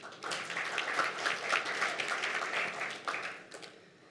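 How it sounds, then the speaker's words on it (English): People at a debt arrears meeting break into scattered applause, a modest room of clapping that swells quickly, holds, then thins out with a few final claps. "I would like that we applaud the government for that"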